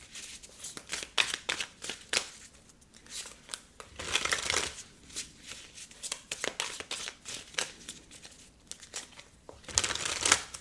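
Tarot cards handled and shuffled from a deck, soft papery riffles, slides and crinkles coming in uneven bursts, close and fairly quiet with no one talking.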